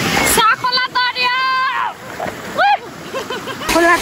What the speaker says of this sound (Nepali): खोला तर्दैछु